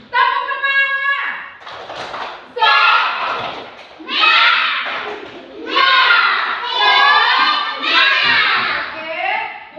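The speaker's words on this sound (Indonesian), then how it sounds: "Tepuk tangan. Tepuk semangat." A group of children claps along to a rhythmic clapping chant in a classroom lesson, their loud chanting voices rising in repeated bursts over the sharp, steady claps.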